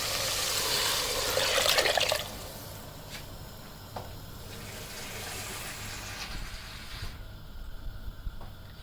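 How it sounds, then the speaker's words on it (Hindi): Water pours into a cooking pot of fried spices and oil for about two seconds with a broad splashing rush, then fades to a quiet hiss with a few soft drips. "अब इसमें डालेंगे हम पानी।"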